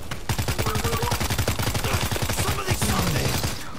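Rapid automatic gunfire from weapons in the World War Z video game, a dense rattling burst that runs steadily throughout with faint game sounds mixed in, loud and close.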